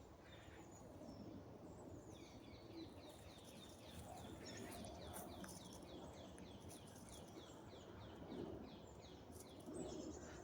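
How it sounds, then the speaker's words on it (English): An unidentified bird in winter woods repeats a thin, high call in a quick series, faint and somewhat distant over a steady outdoor rustle. "I don't know what kind of bird that is."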